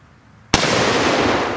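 A single loud blast from an 1861 Parker Hale Enfield .58 caliber musketoon fired at a watermelon, an abrupt crack after a quiet moment that rolls into a long, heavy roar.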